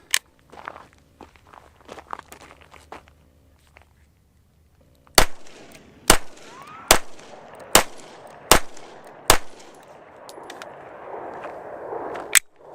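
A Smith & Wesson M&P 2.0 compact pistol with a 4-inch barrel fires six sharp, loud shots at a steady pace, preceded by quiet handling clicks and footsteps, with echoing outdoor ambience after each report.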